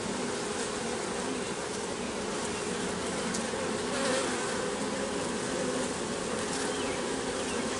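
A honey bee swarm fills the air with a dense, continuous buzzing hum at steady loudness, without voices.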